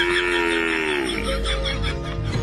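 A water buffalo lets out a single long, loud moo close by, its pitch sliding downward midway before a rougher, noisy tail.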